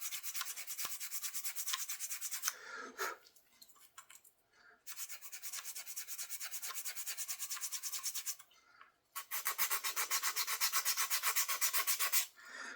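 Sandpaper rubs the thinned ends of wooden wing repair pieces on a biplane restoration in long, steady back-and-forth strokes, loud and close, with brief pauses between bursts and no talking.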